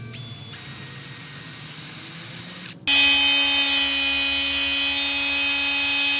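A power drill drilling a hole in a dust collector remote control part whines steadily, stops, then starts again louder with a harsher, higher-pitched grinding whir.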